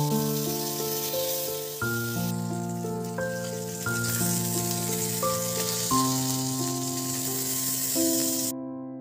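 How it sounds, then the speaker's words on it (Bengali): Bata fish frying in mustard oil in a wok, a steady close hiss of sizzling fat that runs for about eight seconds beneath loud sustained music before cutting off. "প্রথমেই একটা কড়াইতে পরিমাণ মতো সর্ষের তেল দিয়ে বাটা মাছগুলোকে ভালো করে ভেজে তুলে রাখুন একটা জায়গায়।"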